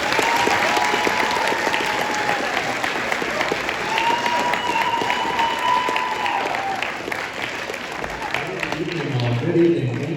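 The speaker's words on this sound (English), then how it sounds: "Thank you for the round of applause." Loud, sustained applause from a school audience at an incoming sixth grade welcome rally, with voices and cheers mixed into the clapping and some talk near the end.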